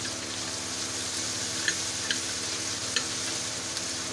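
Crushed ginger and garlic hit hot oil in a frying pan for a chicken chana curry, giving a steady close sizzle with a few light clicks of stirring and no talk.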